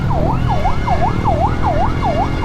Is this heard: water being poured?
no